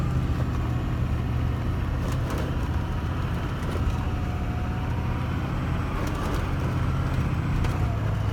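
A Hummer H1 rolls downhill on engine braking with no brake or throttle, its low steady drone and road rumble constant and close throughout, with no talk.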